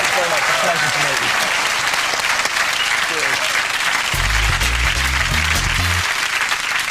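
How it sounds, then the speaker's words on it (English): Studio audience on a late-night comedy show breaks into loud, sustained applause and cheering that fills the whole stretch, with a low musical sting entering near the end. "Ladies and gentlemen, a big round of applause."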